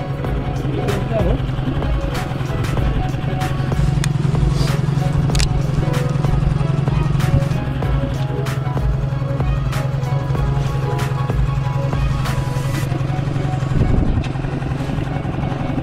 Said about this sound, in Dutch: Kan je de motor uit doen, maat?